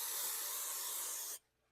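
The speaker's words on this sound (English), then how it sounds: "I just give it a quick spray with a cooking spray" Short burst of cooking spray hissing into a pan, one steady faint spray lasting just over a second before stopping abruptly, with no talking.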